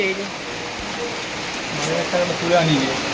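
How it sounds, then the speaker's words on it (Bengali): Heavy rain pours down as a steady, close, full-bodied hiss, with voices talking over it. "আবার জোরে বৃষ্টি এসছে"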